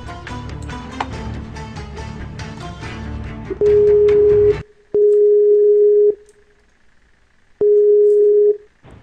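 A steady telephone tone sounds for an incoming call in Minecraft, three separate pulses of about a second each with gaps between them, loud and clear, following a stretch of busier game sound.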